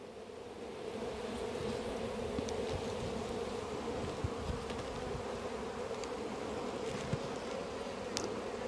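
Honey bees in an opened beehive make a dense, continuous buzzing drone, close and steady throughout, with faint clicks and no talking.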